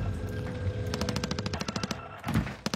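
Rapid gunfire in the shooter video game Call of Duty: Warzone, a fast burst of sharp repeated shots, a brief gap, then more shots, loud and close.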